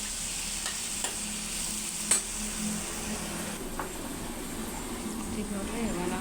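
Curry leaves and chilli powder fry in a pan with a steady broadband sizzle, broken by a few sharp stir clicks against the pan at close range.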